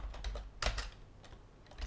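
A command is typed on a computer keyboard: a quiet, close burst of irregular key clicks, a few quick presses, a pause, then a couple more taps.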